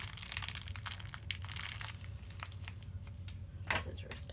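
Tape being torn and packaging crinkled while opening a taped parcel of Japanese collectibles, with rustling, crunching bursts through the clip and a sharper rip near the end.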